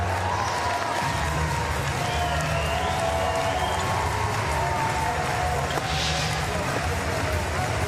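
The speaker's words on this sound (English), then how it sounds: "Those claps just getting a little stiffer, a little angrier" An arena crowd at a Para Powerlifting final makes a steady, dense wash of clapping and murmur that runs unbroken throughout, with scattered shouts rising above it.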